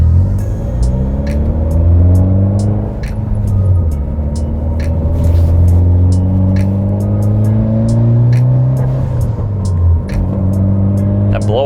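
A Mitsubishi Lancer Evolution X GSR engine rumbles and revs through repeated rises and falls, with sharp hissing bursts of a turbo blow-off valve scattered throughout, close and loud.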